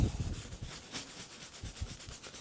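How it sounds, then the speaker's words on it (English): A soft brush scrubs saddle soap into a leather bag, making a quiet, continuous scratchy rubbing with quick back-and-forth strokes close by. "just rubbing it in, work it into the surface, give it a good scrub"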